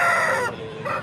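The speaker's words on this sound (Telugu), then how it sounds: "వీడియోలో కనపడుతున్న పుంజు వచ్చేసి భీమవరం జాతికి సంబంధించిన పుంజు." A Bhimavaram breed rooster, 16 months old with abras colouring, crows loudly and close at a Sunday poultry market in Piler, one long strained call that fades near the end.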